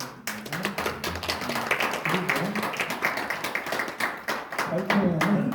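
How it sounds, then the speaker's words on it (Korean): An audience at a tea-tree planting anniversary seminar claps for a panel chair, a moderate round of hand claps lasting several seconds, with a voice speaking over it. "박수 부탁드립니다."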